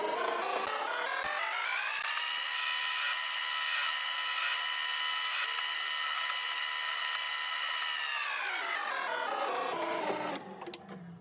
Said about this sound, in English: So I'll just let the drill bit centre itself up with those holes that I poked in earlier